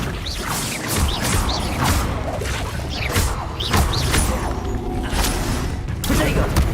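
In Hogwarts Legacy, an Accio spell and the surrounding combat produce a loud series of magical whooshes, creaks and crashing impacts, repeating irregularly in a busy mix of sound effects.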